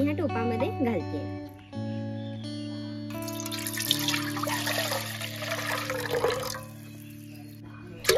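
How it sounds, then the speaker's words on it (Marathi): Water is poured from a pot into a cooking vessel while steamed mango modak are being prepared, making a splashing, trickling pour that grows fuller partway through amid steady background hum. "तर आता मी एक तांब्याभर एवढं पाणी ह्या टोपामध्ये घालते."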